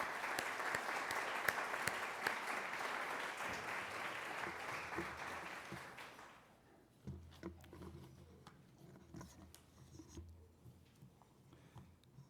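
A crowd at a Veterans Day event applauds loudly and steadily for about six seconds. The clapping then drops off, and a few scattered claps and faint room noise follow.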